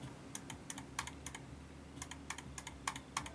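Crisp computer mouse clicks in quick pairs and small bursts, sharp and close, over a low steady hum.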